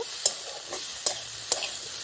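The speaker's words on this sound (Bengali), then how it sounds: "এবার এটাকে মিশিয়ে নেব।" A spatula stirs greens with charred green chillies in a frying pan, giving a few soft scraping strokes at an uneven pace over a faint, steady sizzle close by.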